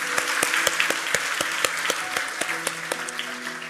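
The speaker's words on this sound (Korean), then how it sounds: "우리 한번 하나님께 감사와 영광의 박수를 드리겠습니다" A church congregation claps together in a steady burst of applause that runs the full length, with sharp individual claps standing out against the dense, even patter.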